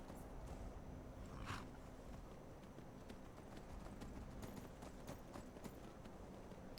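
Horse hooves walking in Skyrim, faint rhythmic clip-clop steps repeating steadily in the background over a quiet game ambience.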